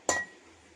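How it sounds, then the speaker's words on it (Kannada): A single sharp metallic clink as a pan is set down on a kitchen stove, bright and close, ringing briefly before fading into quiet room tone. "ಒಂದು ಪ್ಯಾನ್ ಇಟ್ಕೋತೀನಿ"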